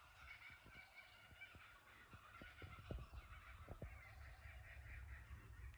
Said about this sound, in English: They're fabulous kookaburras.